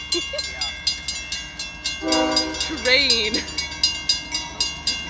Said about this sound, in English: Train. Whoa.